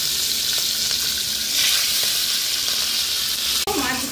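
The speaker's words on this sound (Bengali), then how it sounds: "এখন কড়াইতে আমি তেল দিয়ে দিয়েছি, তেলটা গরম করে নিয়েছি। মাছের মাথাটা আমি আগে ভেজে নেব।" Fish heads rubbed with salt and turmeric fry in hot oil in a wok, giving a loud, continuous close sizzle and crackle with a brief clatter near the end.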